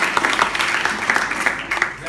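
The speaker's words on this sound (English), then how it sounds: "Give clap to this guy." An audience claps for a hotel room attendant at an English-learning event in Bali, a steady indoor patter of applause running under a voice.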